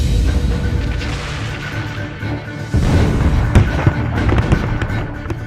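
Musket gunfire in an Assassin's Creed III army battle: loud crackling volleys and scattered sharp shots over a rumbling battlefield, with a sudden surge of firing partway through.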